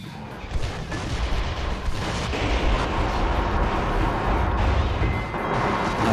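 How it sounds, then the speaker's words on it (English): A missile launcher fires in the video game Metal Wolf Chaos, a dense, continuous barrage of booming blasts and rumbling explosions, loud and unbroken throughout. "See? Missile launcher."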